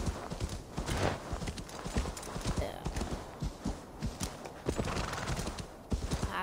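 Rapid horse hooves clip-clop in a dense, busy run of strikes over a loud rushing backdrop, with a whinny breaking through.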